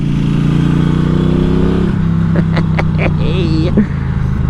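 A Norton Commando 961 SP motorcycle engine drones loud and close, with the pitch dropping through a downshift as the rider blips the throttle, and a voice speaks over the engine.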